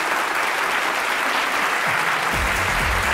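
Warm applause for a contestant at a fashion competition, steady and dense from a studio audience throughout, with a low voice murmuring underneath toward the end.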